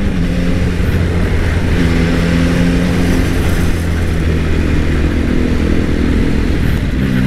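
A Yamaha XSR900 motorcycle fitted with an Orion exhaust, running with a continuous loud, close engine drone that holds steady without clear rev spikes, alone with no talking.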